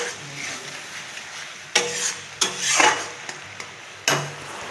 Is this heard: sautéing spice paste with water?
yes